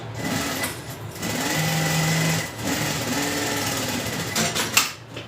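A sewing machine runs at high speed stitching a garment near a zipper, a loud, close, continuous whirring drone with a brief slowdown midway and a short clatter as it stops near the end.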